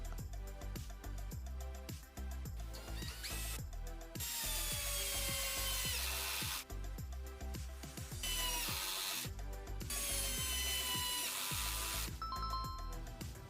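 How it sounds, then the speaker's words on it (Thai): A cordless drill set to maximum clutch and first speed drives No. 8 screws three inches long, giving a loud, continuous whirring grind that rises in pitch, with brief rattling clutch-like breaks between runs. "ทดสอบขันสกรูเบอร์ 8 ยาว 3 นิ้ว 3 ดอกจับเวลา"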